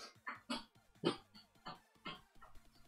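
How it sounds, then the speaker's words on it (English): A series of short, sharp sneezes from a cat, about seven quick bursts in a row, fairly close and distinct. "That's a cat sneeze."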